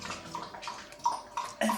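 Dogs lapping water from a bowl indoors, a run of quick wet splashy laps, close and fairly loud, with irregular bursts and no voices.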